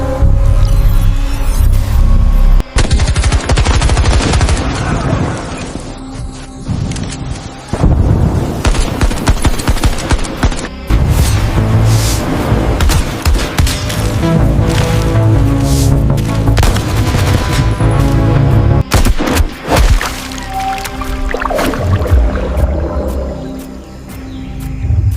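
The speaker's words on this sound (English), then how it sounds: "Make we fire first." A firefight with guns going off, heard as a loud, dense, continuous barrage of bursts and booms that barely lets up, sounding close and harsh. No one can be heard talking.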